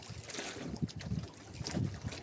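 Double-piston engine on a small fishing boat at sea, a steady rough drone mixed with wind and water noise, continuous and close throughout.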